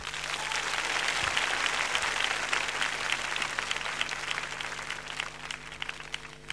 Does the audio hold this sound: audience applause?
yes